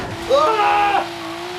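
A racing video game car slides under the handbrake, its tires giving a rising, wavering skid squeal for about half a second before fading into a steady engine drone.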